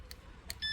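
Alarm on a 2021 SYM Jet 14 scooter being switched off: two short electronic chirps a moment apart, followed by a thin high tonal beep, quiet and close.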